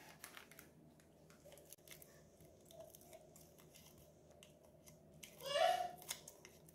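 Scissors cutting churro dough, faint snips and handling under a quiet room before one louder, crunchy cut near the end.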